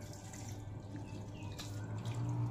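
Tap water runs steadily into a sink while fish is washed clean for cooking, a continuous close splashing flow that holds throughout, with no talk over it.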